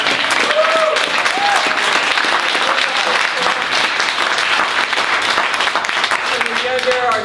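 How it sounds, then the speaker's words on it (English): Loud, close applause from the audience at a bookstore book launch and reading, thick continuous clapping with scattered voices and cheers mixed in throughout. "let's give a round of applause to Malvern Books"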